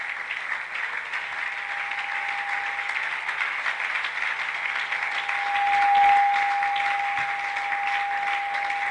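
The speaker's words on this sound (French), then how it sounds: "Clap your hand." A church congregation applauding together at a Sunday service, steady crowd clapping that stays dense and even throughout, swelling slightly near the end, with a faint sustained tone running beneath it.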